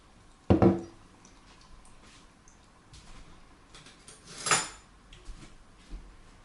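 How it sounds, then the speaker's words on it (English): Homemade energy gel combined in a container, marked by a sharp knock of utensil on the container followed by quiet scraping and a second louder clatter, close up in a quiet kitchen. "Put them together, give it a bit of a stir up."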